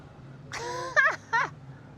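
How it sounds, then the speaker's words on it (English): Seagulls gather near an old lighthouse in Nassau, giving a few loud, close, drawn-out squawking calls in quick succession over faint background hum. "Look at all the seagulls."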